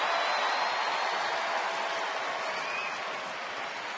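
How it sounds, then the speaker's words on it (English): Ballpark crowd at a Seattle at Texas baseball game, cheering and applauding steadily as a dense, loud wash of noise that holds for the full stretch and eases slightly toward the end. "Still pretty weird to hear everybody cheering for Vladimir Guerrero in this ballpark"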